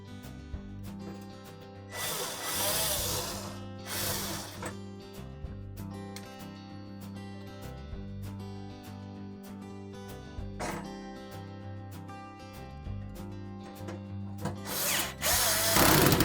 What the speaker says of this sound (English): Reinstall the retaining screws.